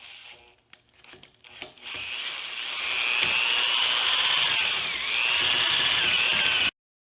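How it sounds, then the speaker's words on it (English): A power drill bores with its bit in a workshop: a few handling knocks and rubs, then a sustained, close, high whine that wavers in pitch for several seconds before stopping abruptly. "I'm not liking the trigger on this drill."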